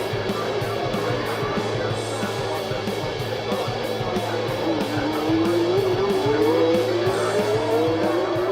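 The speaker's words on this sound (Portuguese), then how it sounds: "Rosberg encosta em Prost novamente e o ataca pela primeira posição" 1982 Formula 1 race cars roar close by as they battle for the lead and overtake, their engines whining at a loud constant pitch that climbs toward the end, with tyre squeal mixed in.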